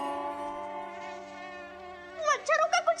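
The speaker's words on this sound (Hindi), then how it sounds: "ये इतने मच्छर अचानक कहाँ से आ गए भाई?" Mosquitoes buzz in a close, thin, steady whine of layered tones, then several louder swooping buzz passes near the end as the insects seem to dart past, in a TV fantasy series scene.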